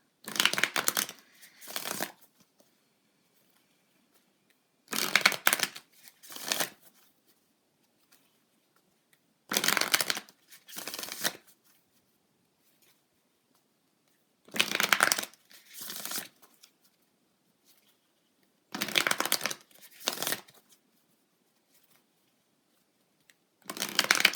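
A moon tarot deck is shuffled in five separate bursts of riffling card noise, each about a second or two long with a short double flutter, separated by long stretches of silence, close and crisp.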